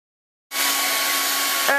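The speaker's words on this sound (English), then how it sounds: "She's just using a regular old blow dryer. I think it's 1875 watts." An 1875-watt blow dryer switches on and runs with a steady, loud, close airy whoosh and whine, drying long relaxed hair.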